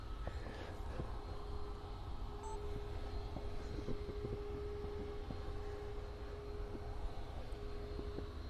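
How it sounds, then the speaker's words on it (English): A Lufthansa Airbus A319 taxiing at Manchester Airport, heard as a steady, distant jet engine hum with a constant whine, unbroken and without talk. "We've got another one on a taxi, the Lufty A319 service flying back to Munich"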